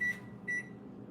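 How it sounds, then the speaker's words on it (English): A kitchen timer beeps twice during pizza making, two short, clear electronic tones close by with a brief gap between them, heard alone with faint room hum. "So y'all hear my timer going on."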